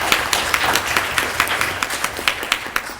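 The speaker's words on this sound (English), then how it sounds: "let's give them all a big hand of applause for having us." An audience claps steadily after a talk, a dense burst of applause with sharp individual hand claps standing out in a fairly even rhythm throughout.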